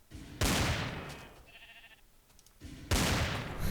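In a modded Minecraft with guns, two loud blasts from a Desert Eagle pistol frame a brief, faint sheep bleat in the middle.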